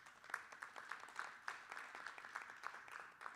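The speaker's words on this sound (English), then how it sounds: "give you a hand of applause" A distant audience at a community meeting gives faint applause, a soft, steady patter of clapping in a large room.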